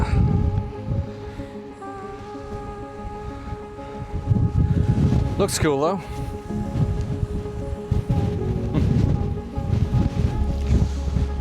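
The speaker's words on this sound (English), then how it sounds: "Whoa, windy, windy. How's my little mic doing?" Strong wind buffets the microphone throughout on a beach by cliffs at Filey or Scarborough, a steady roaring rumble, with a brief spoken remark and a faint whistling tone midway.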